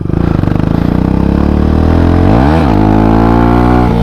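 A supermoto motorcycle engine revs hard and loud close by in second gear for a wheelie attempt, a throbbing idle climbing into a rising roar that peaks, dips sharply and then holds high again.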